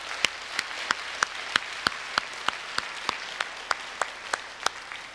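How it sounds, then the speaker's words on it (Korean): Church congregation clapping in rhythm during a Korean anniversary service, sharp evenly spaced claps about three per second, steady and fairly close with no talk over them. "우리 온 마음을 다해 우리 하나님께 감사의 박수를 우리 올려드립시다."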